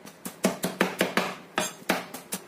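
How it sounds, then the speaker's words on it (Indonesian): Knife chopping three garlic cloves finely on a cutting board, a quick series of sharp, close taps in an uneven rhythm with brief pauses, no talking. "Di sini aku punya 3 siung bawang putih. Aku akan cincang halus dahulu."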